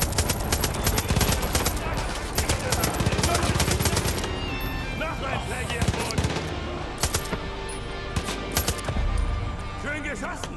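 Machine-gun fire in Far Cry 5, loud rapid bursts packed into the first few seconds, then scattered single shots and clinks of spent casings, with someone talking quietly between the bursts.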